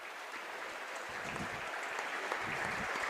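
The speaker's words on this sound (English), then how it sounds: "Applause here from the folks at Judge Memorial" A crowd claps steadily in a dense, continuous patter of applause, sustained and moderately loud, in an indoor arena at a girls' high school basketball game.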